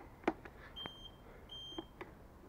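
Small buzzer fitted to an electric scooter's indicators, giving short, faint electronic beeps at intervals, a few thin tones over a quiet background with a couple of clicks.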